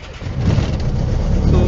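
A Partenavia P68C twin piston-engine aircraft engine catching and running up after the propeller turns over, a steady loud low rumble building in strength, with speech over it.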